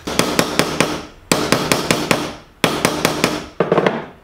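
A hammer strikes a bronze cold rivet in rapid bursts of four or five sharp metallic blows, with brief pauses between bursts, loud and close.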